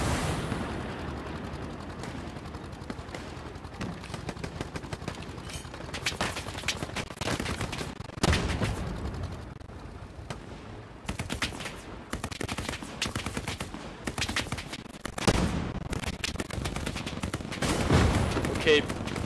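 Sustained battlefield gunfire in Hell Let Loose on the Hurtgen map, dense machine-gun bursts and rifle shots with heavy booms from tank fire and explosions throughout, while players talk over it.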